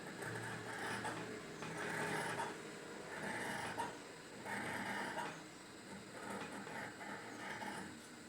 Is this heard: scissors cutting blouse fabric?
yes